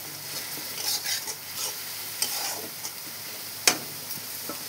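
Masala for egg curry sautéing in a pan, a soft steady sizzle with the scrape and clatter of stirring, close and fairly quiet with no talk.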